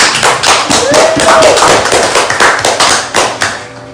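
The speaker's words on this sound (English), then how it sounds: "Give her a round of applause." An audience at a spoken word poetry event claps for a poet, a dense burst of applause that thins out and trails off after a few seconds.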